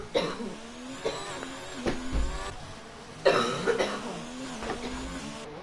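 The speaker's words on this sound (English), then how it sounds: "That coughing in the background is my partner." A person coughs in the background, several harsh bursts spread across the clip over the steady sound of a Monaco race broadcast.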